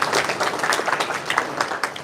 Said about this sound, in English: So please give Mike a big round of applause.